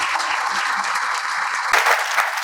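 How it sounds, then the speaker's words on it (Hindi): An audience at a real estate talk applauds steadily, a dense, close wash of clapping that holds throughout with a brief swell near the end. "खुद के लिए ताली बजा दें।"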